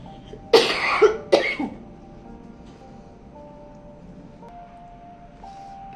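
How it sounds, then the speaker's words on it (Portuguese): A short coughing fit, two or three harsh close coughs in quick succession followed by near silence with a faint background hum. "me deu uma crise de tosse aqui"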